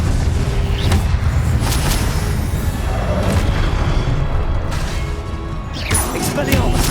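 Spell explosions from the Confringo curse in the Hogwarts Legacy game on PS5, heavy booming blasts with crashing debris repeating over a constant dense battle din, loud and close, with a brief lull near the end before another burst.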